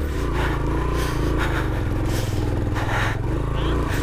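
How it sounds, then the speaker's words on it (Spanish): Motorcycle labouring up a steep mountain road, its engine droning loud and strained throughout with scraping and rattling, and a voice talking over it. "Acá ya la moto ya no tiene fuerza"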